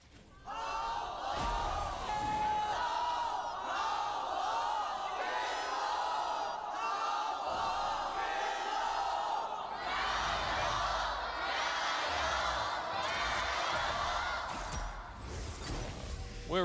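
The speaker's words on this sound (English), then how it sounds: "Our canned crowd is going ballistic for our two teams here." A canned crowd roars and cheers continuously at the 2020 LPL Summer Finals, a League of Legends esports match between JDG and TES, loud and sustained with chanting and whoops, under commentator talk.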